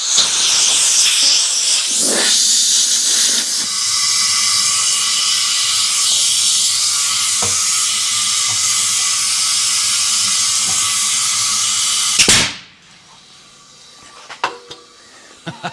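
A bead sealer tank blasts air into a tire at about 100 PSI to seat the bead, a loud sustained roaring hiss for about twelve seconds that cuts off abruptly, followed by quieter clanks and rattles.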